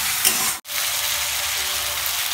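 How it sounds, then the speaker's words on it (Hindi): Salted onions fry in a pan, browning in a loud, steady sizzle with a brief dropout partway through. "ये देखिए हमारे प्याज 2 से 4 मिनट फ्राई करते थे लाल हो चुके थे"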